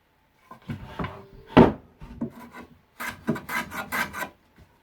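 A rickety wooden workbench scrapes and grinds across the floor in short rasping bursts while a mortise and tenon joint is being worked, close and dry with uneven pauses.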